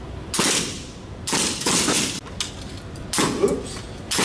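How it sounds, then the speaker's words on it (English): Semi-automatic rifle fire on an army basic training range, heard as a few loud, sharp bursts spaced a second or more apart, with outdoor ambience between them. "Go ahead, center of the white dot and take your time. Fire when ready."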